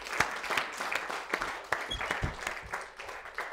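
An audience applauds to welcome a guest at a celebration marking a show's 200th episode, with scattered claps that rise and fall, mixed with faint voices in the room.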